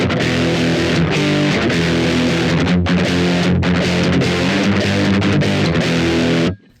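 A guitar played through a high-gain distortion pedal, such as a Digitech Death Metal, EHX Metal Muff or Boss DS model, grinds out a loud, dense, heavily compressed and noisy riff with brief chugging gaps before cutting off abruptly.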